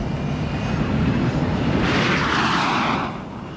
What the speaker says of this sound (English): Predominantly, we fly the T-38.